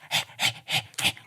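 A person imitates a dog panting with four quick, rhythmic breathy huffs, close and fairly loud, alone without other talk.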